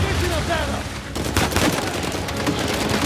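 Gunfire and a booming blast in the video game Uncharted 4, from an RPG missile, a dense rattle of shots and impacts after a brief quieter stretch, loud and close with a voice talking briefly at the start.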